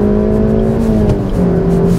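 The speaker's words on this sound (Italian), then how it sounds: "sentite anche la progressione del motore" Naturally aspirated Suzuki Swift Sport engine accelerating on the road, a loud close engine note with tones that climb steadily in pitch as revs rise, briefly easing then pulling again.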